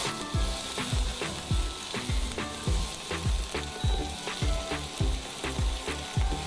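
Bay leaves, black peppercorns, black cardamom and finely chopped onion sizzling in hot oil, a dense frying hiss overlaid by a steady rhythm of repeated low thumps from stirring or tapping, close and continuous.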